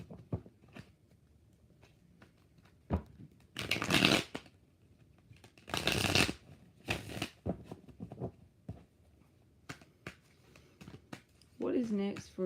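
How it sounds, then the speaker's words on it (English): Tarot cards being shuffled in a few brisk bursts of riffling and flapping between quieter stretches of soft handling, close and crisp, with a voice speaking near the end. "Two more shuffles."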